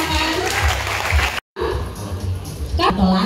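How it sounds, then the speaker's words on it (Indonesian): Audience applause greets Pak Ujang as he is called up at a Warta Kota 25th anniversary celebration attended by hundreds of high school students; dense clapping and crowd noise fill the room, broken by a brief dropout, with voices mixed in. "kita sambut dengan meriah dan tepuk tangan Pak Ujang"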